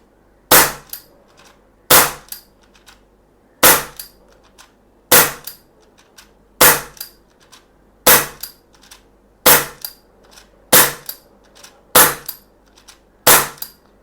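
Sharp, loud pops of a SIG Sauer P320 CO2 air pistol firing .177 caliber pellets, about ten shots spaced at a steady pace of roughly one every one and a half seconds.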